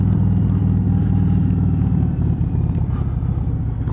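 Motorcycle ridden along Yorkshire Dales back lanes, a steady loud low engine drone with road rumble held throughout, close and continuous with no voices.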